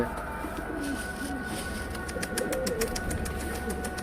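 Domestic pigeons gather at feeding time, their soft cooing continuous and close amid steady outdoor background noise, with a few faint higher chirps scattered through.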